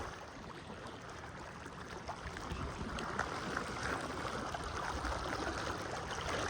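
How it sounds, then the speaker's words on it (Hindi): Fast, deep floodwater rushing through a village, a continuous broadband roar and churn that swells slightly louder midway and stays steady, heard alone without talk. "पानी भी बहुत सारा गहरा गहरा तेज़ तेज़ पानी आ रहा है"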